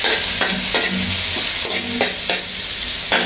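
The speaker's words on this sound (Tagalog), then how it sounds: "Ayan na, gisa-gisa tayo sibuyas." Onions sizzle and sauté in a hot pan for a Filipino chicken dish, a loud continuous frying hiss broken by regular scraping strokes of a spatula stirring every half second or so.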